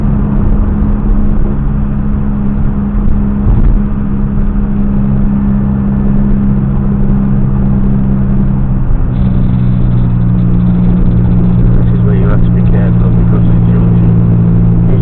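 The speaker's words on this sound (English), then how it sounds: "we drive through the arch, which today we will drive through at speed." A car drives at speed through an arch, with a loud, steady engine rumble and road noise from inside the cabin. The engine pitch shifts partway through, and a voice talks over it.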